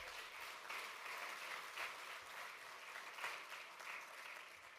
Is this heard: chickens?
no